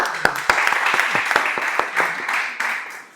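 An audience at an impromptu speaking workshop gives a round of applause, with dense, lively clapping and a few sharper individual claps standing out, fading slightly at the end.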